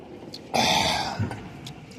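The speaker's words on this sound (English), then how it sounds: "Let me clear my throat." A throat being cleared, one harsh rasping burst followed by a shorter guttural catch, close and fairly loud with a few faint clicks around it.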